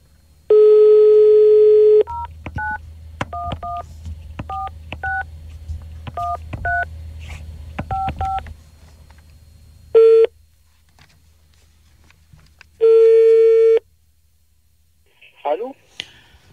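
A telephone handset plays a dial tone, then a quick series of keypad tones as a number is dialed, followed by separated ringback tones, setting up a prank call with no talk.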